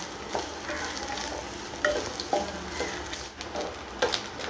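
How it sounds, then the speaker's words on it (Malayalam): Grated coconut roasts in coconut oil on a low flame for erissery, giving a steady soft sizzle broken by occasional scrapes and stirring taps of a spoon in the pan. "ഇനി ലോ ഫ്ലെയിമിൽ കിടന്നിട്ട് നല്ലോണം ഒരിഞ്ഞു വരണം"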